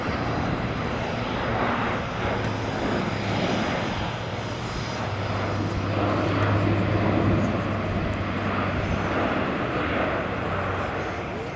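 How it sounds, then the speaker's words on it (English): An Airbus A400M military turboprop transport flying low with undercarriage down at the Royal International Air Tattoo, its propellers giving a steady loud drone with a pulsing low hum, while a commentator talks over it. "The A400M is an incredibly capable aircraft"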